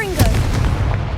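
A Confringo fire spell blasts in Hogwarts Legacy, a loud, deep, booming burst that rolls out and holds for about a second.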